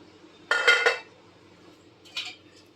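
A metal lid comes off a kadai holding a baking chocolate biscuit cake, making one clattering clink followed by a lighter rattle a moment later, close and otherwise quiet.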